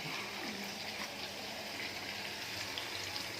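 Water pouring steadily into a pot of bitter gourd curry with coconut milk, a soft continuous gush and splash at close range, fairly quiet and without talk.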